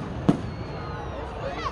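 Fireworks at an Independence Day show in Waltham, Massachusetts: one sharp, loud burst early on, followed by a lingering low rumble and faint crackle over a murmur of background crowd noise.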